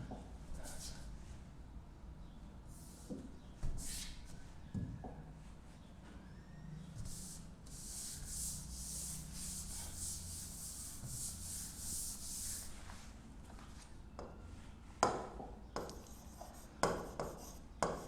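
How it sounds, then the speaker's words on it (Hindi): A shloka being written on a board, soft scratchy strokes coming in bursts with pauses, faint and near, with a longer steady rubbing stretch in the middle. "ये श्लोक मैं यहां लिखता हूं।"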